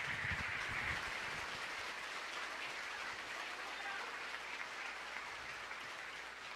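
Church congregation applauding during a women's service, a steady, fairly distant wash of clapping that holds evenly throughout.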